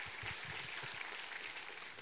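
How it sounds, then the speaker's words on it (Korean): A church congregation applauding during a Sunday worship service: a soft, even wash of many hands clapping that sounds distant and faint, continuous throughout with no voices on top. "우리 하나님께 감사와 영광의 박수 올려드리겠습니다."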